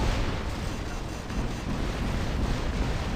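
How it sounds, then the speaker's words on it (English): In the War Robots video game, a turret fires and explosions erupt: a dense, continuous roar of blasts and booming impacts fills the short stretch, loud and unbroken, with no talk over it. "Shoot them, turret."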